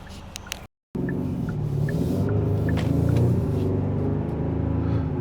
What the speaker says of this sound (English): we're test driving the Hyundai Sonata N-Line